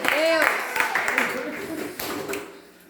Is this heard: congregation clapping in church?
yes